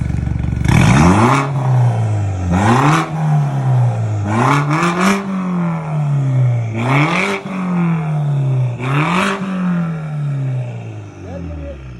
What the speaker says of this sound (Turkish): orijinal M3 egzoz sistemini f 30la uyarlayarak kumandalı şekilde yaptık arkadaşlar. Açıyoruz.